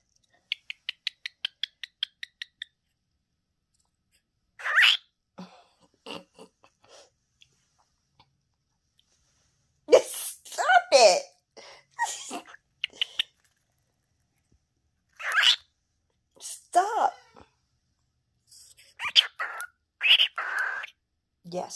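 A pet cockatiel chirps and squawks in scattered bursts, starting with a quick series of short chirps followed by louder whistles and calls, with someone talking between them.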